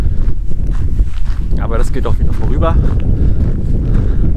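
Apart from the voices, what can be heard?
wind blowing on Baltic Sea coast hike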